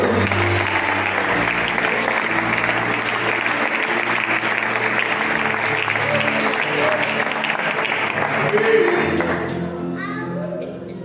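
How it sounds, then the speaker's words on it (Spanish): Sustained, dense applause from a large church congregation fills the room for several seconds, then tapers off as a few voices come through. "Fuertes aplausos al Señor."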